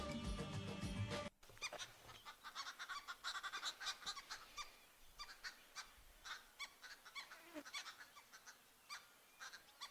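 An unusual bird gives a run of harsh, honking calls in quick irregular bursts, fairly close and moderately loud, after a brief snatch of music at the start.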